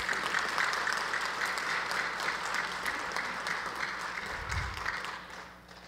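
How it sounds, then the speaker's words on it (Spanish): Applause from the audience at an anniversary ceremony of a physical education school in Peru, a sustained, fairly distant wash of clapping that fades out toward the end, with a low thud near the close. "El aplauso propio para ustedes."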